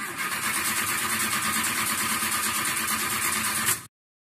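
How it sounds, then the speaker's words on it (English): A steady, loud car engine roar with a high hiss runs continuously for a few seconds, then cuts off abruptly as the engine fails to start; no talking. "Why didn't my car engine start up?"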